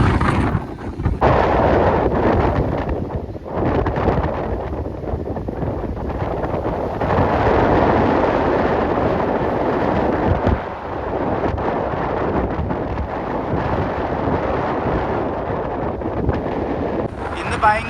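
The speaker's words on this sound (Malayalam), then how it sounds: "ഭയങ്കര കാറ്റായത് കാരണം കേട്ടോ ബോട്ടൊക്കെ വളരെ ബുദ്ധിമുട്ടിയാണ് കേട്ടോ പോകുന്നത്" Strong sea wind at Kanyakumari roars and buffets the microphone in loud, rumbling gusts that continue almost without pause.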